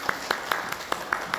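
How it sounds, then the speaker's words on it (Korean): A church congregation claps in thanks during a Sunday service, a few sparse, spaced claps forming a soft, thin round of applause at moderate distance. "우리 함께 감사 박수 드릴까요?"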